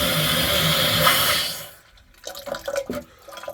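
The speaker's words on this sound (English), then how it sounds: "The water flowing good there." Water gushes loudly and steadily from a hose fitted to a PEX plumbing stop, then cuts off abruptly, leaving scattered drips and small knocks in the quiet that follows.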